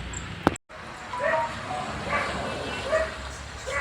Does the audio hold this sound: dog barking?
yes